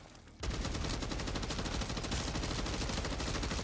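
Sustained rapid automatic gunfire from a weapon in Call of Duty MW3 Zombies, loud and dense with no pauses after a short quiet lead-in.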